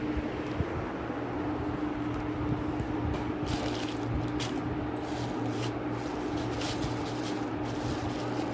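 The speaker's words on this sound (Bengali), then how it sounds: "আগে মাছটা ভালো করে ধুয়ে নেব।" Small fish, including morola and shing, are washed by hand in water, a continuous soft splashing and squishing with scattered wet clicks, steady and close throughout.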